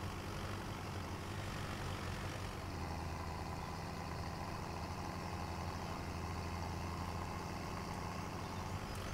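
A tractor engine idles in the farming game Farming Simulator 17, a faint but constant low drone with a steady hum and no voices over it.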